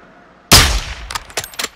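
A loud gunshot blast in Call of Duty: Modern Warfare II, a sharp broadband crack with a decaying tail, followed by several quicker, quieter shots in an irregular burst.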